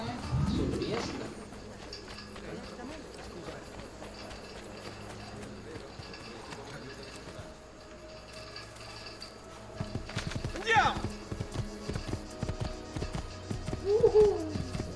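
A horse in the video game Assassin's Creed II clip-clops along, its hoof beats rising in the second half amid game ambience with birds cooing, while someone talks and whoops over it.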